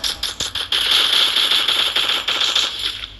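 Vector submachine gun firing in the mobile shooter Free Fire, a few quick separate shots, then a continuous rapid rattling burst for over two seconds, loud and close with no talk.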